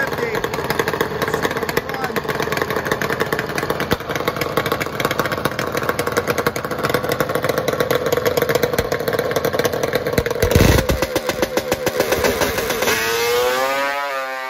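A Kawasaki H2 750 two-stroke motorcycle makes a drag racing run at a quarter-mile event, its buzzing engine loud and sustained, revving hard and then changing pitch as it pulls away, with an announcer talking over it.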